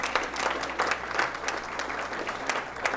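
Audience applause at a sports banquet honoring high school athletes, a steady wash of many hands clapping at fairly close range, filling the room with no talk over it.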